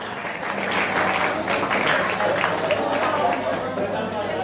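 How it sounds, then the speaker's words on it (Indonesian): A group of students at a Ramadan pesantren session in an Indonesian high school claps loudly together, a dense, sustained round of applause that fills the hall for several seconds. "Iya, tepuk tangan semua."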